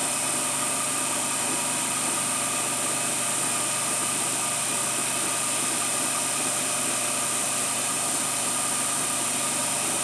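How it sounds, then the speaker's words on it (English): An Emco F1 CNC milling machine reams a control arm assembly, its loud, even mechanical hum and whir unchanging throughout with no pauses. "It's in a reaming cycle now,"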